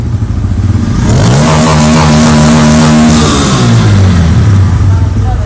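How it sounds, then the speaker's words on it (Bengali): A fuel-injected Bajaj Pulsar N160 with an RPM fault revs hard on the throttle: the engine note climbs from idle, holds high for about two seconds and then falls back, loud and close. "এবারে জোরে থ্রটল দিবে, দেখি।"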